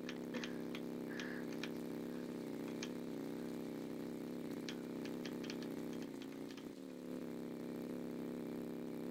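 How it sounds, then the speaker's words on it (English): A moped engine in Bloxburg drones steadily at a low, even idle-like hum throughout, with faint ticking clicks scattered over it and a brief dip near the end. "I'm driving a moped"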